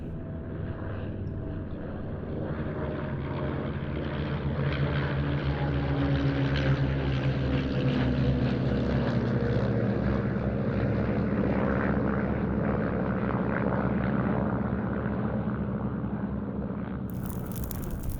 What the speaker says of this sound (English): aircraft in the display was a Pipistrel Velis Electro, which first flew in 2020